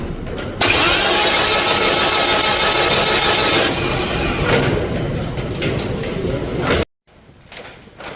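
Engine of an abandoned rally car cranks over to test for spark after years standing unused, making a loud, sustained churning roar that shifts midway and then cuts off abruptly, followed by faint rattling.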